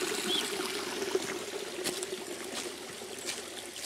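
Spring water trickles from a pipe in a rocky forest spot, a faint continuous dribble and splash with a steady outdoor hiss and no talking.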